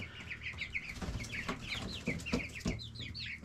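Several roosters, one of them one-legged, cluck and crow on a farm with cows and a sawmill nearby, their calls overlapping in a steady busy stream, close and moderately loud, with no one talking.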